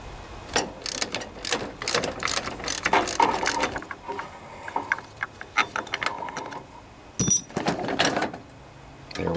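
A ratchet wrench clicks in quick irregular bursts while loosening a 9/16 nut on the steering of a Craftsman riding lawn mower, close and crisp with short pauses between strokes.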